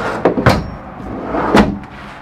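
A drawer in a 2014 Forest River Solera 24S motorhome slides out with a couple of quick knocks, then bumps shut with another thud. Close by, no talking.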